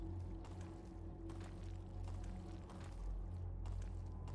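Low, steady pouring and gurgling of a water-like liquid flowing through a dungeon in Legend of Grimrock II, continuous and fairly quiet with a droning undertone throughout.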